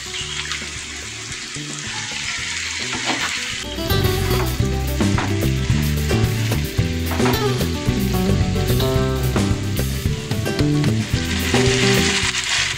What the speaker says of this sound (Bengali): সবকিছু ভাজা ভাজা হয়ে গেছে। এতে দেব চিকেনের লিভারটা,